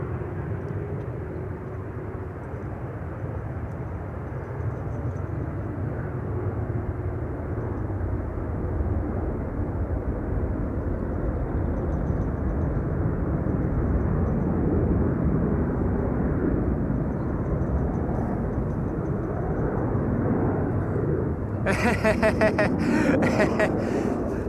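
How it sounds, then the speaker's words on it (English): Business jets taking off from runway 22 at Amsterdam Schiphol: a steady, broad jet roar that holds for the whole stretch, grows slightly toward the end, and is joined by brief crackling noise in the last seconds. "More biz jets taking off here from runway 22."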